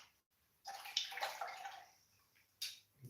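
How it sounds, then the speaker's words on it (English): A paintbrush is swished hard in a water rinse bucket, giving quick close splashing and sloshing in two short bursts with a brief pause between. "Just give it a good vigorous wash in your rinse bucket."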